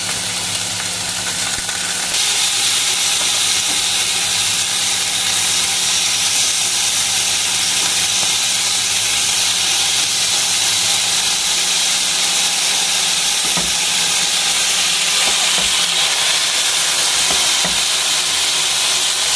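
Chicken steaks sizzle in a pan over a low flame, a loud, steady hiss of frying running throughout with a couple of faint knocks near the end.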